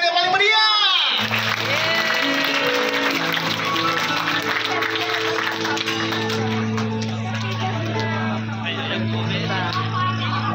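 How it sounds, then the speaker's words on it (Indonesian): A crowd at a birthday party claps and cheers together, a dense burst of applause under loud sustained music, with some shouting and chatter in the mix. "Sekali lagi dong tepuk tangan yang paling meriah."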